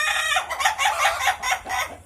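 A chicken clucks in a rapid, repeated series of close, loud calls while being bathed with lice medicine, each cluck sharp and nasal, with no talking.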